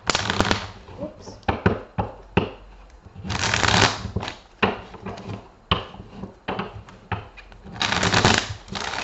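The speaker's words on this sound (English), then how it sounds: "Let's give these a shuffle." Tarot cards being riffled and shuffled in quick bursts, crisp papery flutters close by, with short pauses between shuffles.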